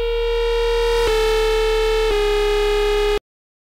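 A sustained synth bass in Serum with distortion applied, buzzy and harmonically rich, holding one steady note with two slight retriggers before cutting off abruptly into silence.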